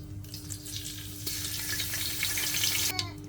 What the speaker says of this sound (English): so it's already hot. Then I'll introduce my bay leaf, my fresh rosemary.